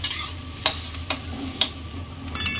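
Spine gourd (kakrol) frying in a pan, a soft steady sizzle with several sharp scraping stirs of a utensil against the pan, close and without talk.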